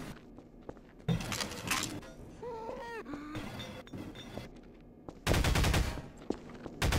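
Gunfire in Age of Empires 3 during a Napoleonic-era battle, bursts of rapid crackling shots at the start and again near the end, with game effects and quieter rustling between them.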